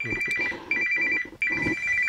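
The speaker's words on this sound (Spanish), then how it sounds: "Ese es tu teléfono." A mobile phone rings in steady repeated bursts, loud and close, with a short gap between rings and faint background talk underneath.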